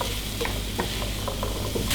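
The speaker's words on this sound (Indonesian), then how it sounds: "Apelnya kita goreng dulu." Apple pieces frying in melted unsalted butter in a pan, a close steady sizzle broken by soft scraping stirs as the fruit is moved around.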